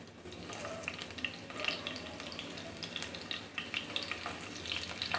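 Garlic and green chili sputter and crackle in two tablespoons of hot oil, a dense, steady sizzle with sharp popping ticks scattered throughout, close up and with no voices.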